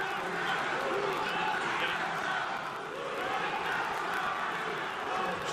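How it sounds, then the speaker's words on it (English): A raucous arena crowd at a live wrestling event in Glasgow roars and cheers as a constant distant wash, with commentators talking over it. "This raucous crowd here in Glasgow for their support of Jungle Jack Perry."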